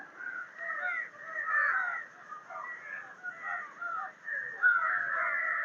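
Crows caw continuously in a noisy overlapping chorus, several birds calling at once, fairly close and steady throughout.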